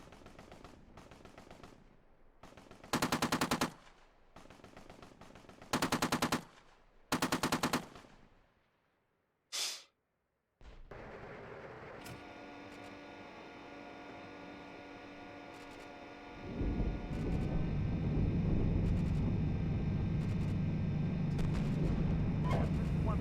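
Loud bursts of simulated machine-gun fire in the tank combat game Steel Beasts Pro PE, three sustained volleys with short gaps, then a single sharp shot, then a steady heavy rumble of engine and distant fire.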